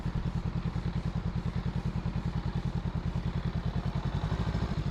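A 2021 Honda Rebel 500 motorcycle engine runs steadily at low speed on the street, its rapid regular chugging pulses close and continuous throughout, with no voices.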